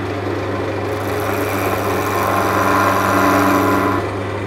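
A wood lathe spins a workpiece while a skew chisel trues up its square edges for off-center turning. A steady, loud motor hum runs throughout, with a brighter cutting hiss swelling across the middle.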